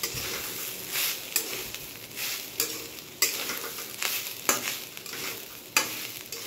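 Grated coconut being stirred in a pan with a pinch of salt for sweet coconut balls, a spatula scraping and sizzling in repeated strokes at a steady rhythm, close and fairly quiet.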